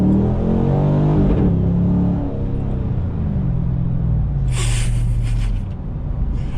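A 2009 Pontiac G8 GT with its V8 pulls hard under full throttle, the engine note climbing loud and close through the revs before easing, with a brief gasp of breath near the end.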